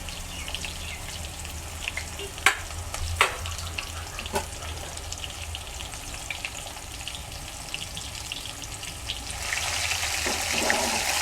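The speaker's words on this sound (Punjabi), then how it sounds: "ਆਹ ਦੇਖੋ ਚਿਕਨ ਆਪਣਾ ਫਰਾਈ ਹੋ ਚੁੱਕਿਆ" Chicken pieces deep fry in hot oil for chilli chicken, a steady crackling sizzle with a few sharp clinks of a utensil, the bubbling growing louder toward the end.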